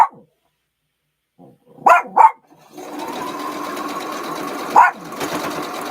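A dog barks sharply three times at close range, two quick yelps and then a later one, while a sewing machine whirs steadily through the second half of the clip during quilt piecing.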